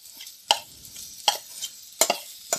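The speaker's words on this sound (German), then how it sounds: "Das in Öl und Gewürzen marinierte Jakobsfruchtfleisch gebe ich mal rein und verteile das hier ein bisschen auf den Boden meines Woks hier" Oil-marinated jackfruit hits a hot wok, giving short bursts of sizzle and scraping as it is spread across the pan, four distinct close clatters over a soft frying hiss.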